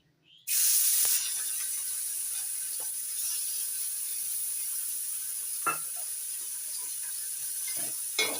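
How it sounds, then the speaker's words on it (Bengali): Prawns coated in salt and turmeric hit hot mustard oil with a sudden loud hiss that settles into a steady close sizzle, with a few scrapes and clinks as they are moved about in the pan. "নাড়াচাড়া করে ভেজে নিচ্ছি"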